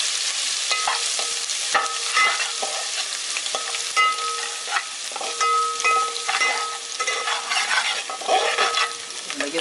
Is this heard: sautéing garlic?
yes